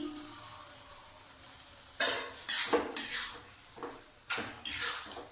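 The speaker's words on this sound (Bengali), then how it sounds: "ভালো করে আরেকটু ভেজে নেব" A spatula scrapes across a pan in several quick strokes, with soft sizzling in between as cabbage is stir-fried.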